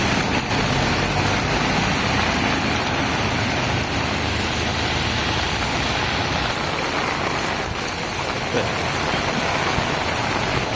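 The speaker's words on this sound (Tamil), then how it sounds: "சரியான மழை." Heavy rain pouring down in Ramanathapuram in a dense, steady roar, constant and enveloping with no pauses.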